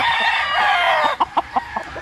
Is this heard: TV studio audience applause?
no